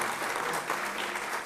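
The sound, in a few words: audience applause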